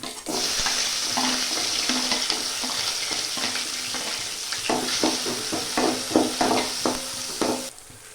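Onion and garlic sautéing in a pan, a loud continuous sizzle with repeated spatula scrapes and knocks against the pan, close up with no voices.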